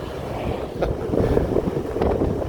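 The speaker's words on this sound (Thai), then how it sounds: "ลมแห้งว่ะ" Dry wind gusts across an open marsh-lake viewpoint near a temple in rural Laos, a steady broadband rush buffeting the microphone with swelling gusts and no voices.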